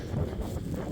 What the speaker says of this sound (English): Sorry friends, it's really windy today.